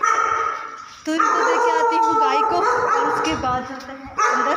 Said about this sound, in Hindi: तो ये देखो कुत्ते कैसे भौंक रहे हैं यहाँ